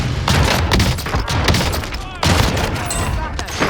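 R9 shotgun fire in the Warzone video game, dense loud booming blasts layered with other gunfire in a chaotic firefight, with a voice talking over the shots.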